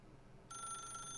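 A telephone in The Stanley Parable video game starts ringing partway through, a steady electronic ring that sounds close and clear after a quiet start.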